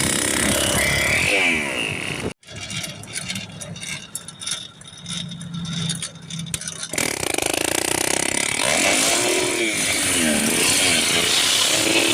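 A gas-powered motorized beach cruiser bicycle engine runs loudly and steadily, with a brief dip partway through before the buzzing drone returns at full strength.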